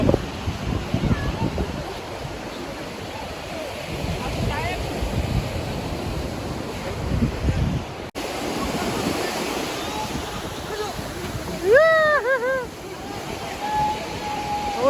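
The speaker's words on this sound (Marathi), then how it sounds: "आता होडी चालली पाण्यामध्ये" A fishing boat churning through choppy sea water off Goa with wind buffeting the microphone; a voice shouts briefly near the end.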